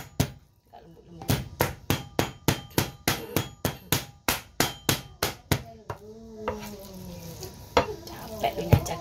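A cleaver chops pork meat in a rapid, steady run of loud, close thwacks on a board, then the chopping stops and gives way to softer handling and sizzling-like kitchen noise.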